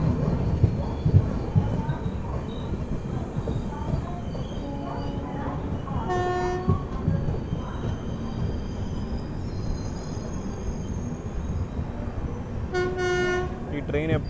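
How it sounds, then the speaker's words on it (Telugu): The Island Express from Kanniyakumari to KSR Bengaluru rumbles past steadily, with two bright horn blasts partway through and near the end and a voice speaking over the passage. "లెజెండరీ ఐలాండ్ ఎక్స్ప్రెస్ అండి, కన్యాకుమారి కేఎస్ఆర్ బెంగళూరు."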